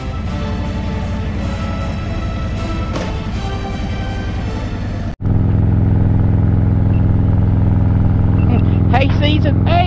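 Motorcycle engine on a group cruiser ride through the boondocks makes a loud, continuous rumble that drops out abruptly midway, then returns even stronger and steady, with a voice briefly breaking in near the end.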